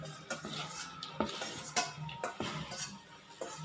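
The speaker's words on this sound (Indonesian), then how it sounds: "Kita aduk-aduk ya, sampai bumbunya benar-benar tercampur rata ya." A utensil scrapes and clinks against a pan while Palembang-style red fried rice is stirred with its seasoning, giving irregular metallic taps and soft scraping strokes at a moderate, unhurried pace, fairly quiet and without voices.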